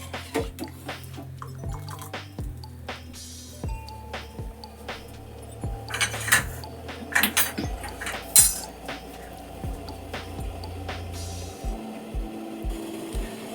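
Pineapple kesari bath is stirred with saffron colour in a pan: irregular metallic clinks and taps of a spoon against the pan, with soft scraping and wet drips between them, close and alone.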